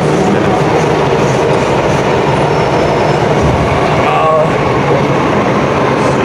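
A Hong Kong train runs from Sunny Bay to Disneyland. A loud, constant rumble and clatter fills the carriage, with a faint wheel whine and brief murmurs of voices under it.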